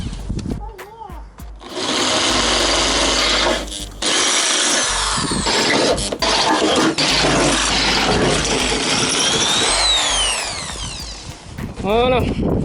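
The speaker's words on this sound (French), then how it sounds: "maintenant que toutes les marques sont faites, on peut percer." A power drill bores holes through the bodywork of a Jeep Cherokee XJ to mount a snorkel, with a 10 mm bit. It whines loud and sustained in long bursts, briefly dipping between holes, with a few short pauses at start and end.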